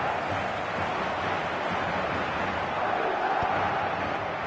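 A football stadium crowd roars in a steady, dense wall of noise that holds loud and unbroken throughout.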